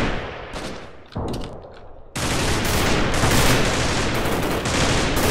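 Machine-gun fire in a Half-Life mod shooter game, loud dense bursts that build into a sustained rattling barrage of overlapping automatic fire, with no talking.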